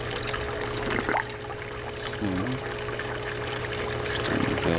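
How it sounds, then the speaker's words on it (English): Water pours steadily into a bio ball swirl filter on a hot tub aquaponics setup, a continuous rushing trickle with a low hum underneath and a brief spoken word over it. "Got some nice water going."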